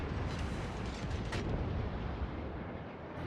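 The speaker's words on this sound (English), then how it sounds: "with that much firepower and ships shooting at me" Sustained roar of heavy naval gunfire from enemy warships in a naval combat game, a dense rumbling barrage with a sharper blast near the middle, loud and continuous throughout.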